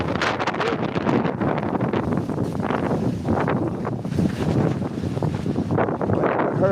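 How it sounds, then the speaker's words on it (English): Strong wind gusting outdoors, heavy buffeting roar across the microphone that stays loud and turbulent throughout with rapid surges. "It's so windy."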